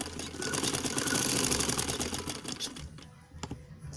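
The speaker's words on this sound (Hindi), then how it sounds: "अब सीधी सिलाई करके हम इसकी कटोरी की स्टिचिंग ले लेते हैं।" A sewing machine runs a straight stitch along the katori (cup) section of a belt-style katori blouse, a steady whirring rattle for nearly three seconds before stopping and leaving a few faint clicks.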